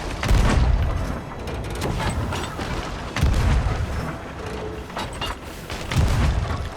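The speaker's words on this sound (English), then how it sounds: "I'm going to do a last few cannon shots on them here before I shoot myself over" Ship cannons fire in a pirate naval battle video game, deep booms recurring roughly every three seconds amid a rumbling, mechanical wash of game ambience.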